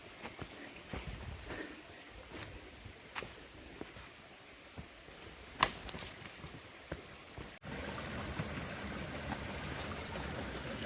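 A mountain stream runs along a forested ghat trail below rock-cut steps, a soft trickling wash under a few scattered footsteps and clicks, growing fuller and closer near the end.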